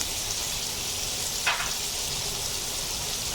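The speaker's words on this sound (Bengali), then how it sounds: "ওই তেলে এখন পেঁয়াজগুলো দিয়ে দেব।" Two cut onions fry in oil left from frying fish, giving a steady, even sizzle with one brief clink partway through, and no voices.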